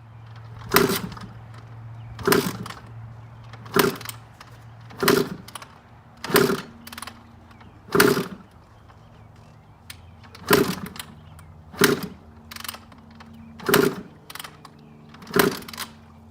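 A Honda CR125 two-stroke dirt bike being kicked over repeatedly with the throttle held open during a compression test: about eleven evenly spaced thumping kicks, each a sharp burst with a short churning turnover, loud and close, with no talking.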